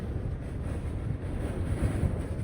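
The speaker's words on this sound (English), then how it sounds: "as the windstorm passes" A desert windstorm buffets a parked campervan, giving a steady, loud low rumble of wind against the vehicle with gusting swells and no break throughout.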